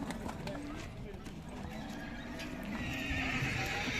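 Horse neighing at a horse market, with hooves clopping and people talking nearby amid general outdoor market noise.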